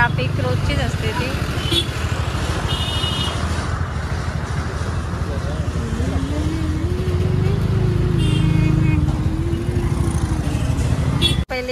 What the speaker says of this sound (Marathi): स्टॉप सगळा पॅक. ट्रॅफिक रोजचीच असते ती.